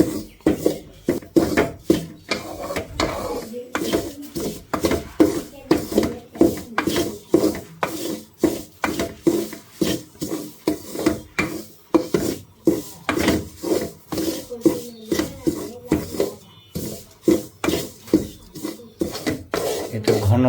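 Ghee, coconut oil and coconut dust stirred hard in a pan to keep them from sticking or burning. Close, loud scraping strokes repeat in a fast, steady rhythm for the whole stretch.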